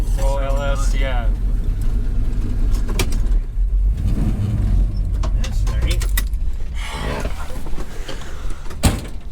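An LS-swapped car engine rumbles heavily and revs up loudly, heard from inside the cabin, while people talk over the noise.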